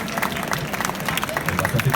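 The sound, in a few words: audience applause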